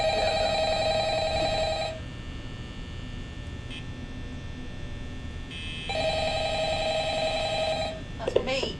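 A telephone rings twice in an indoor room, each burst a steady electronic trill lasting about two seconds, separated by a pause over a low background hum.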